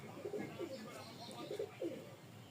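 Pigeons coo in soft, throaty, repeated phrases at close range in a pigeon loft, with faint background noise.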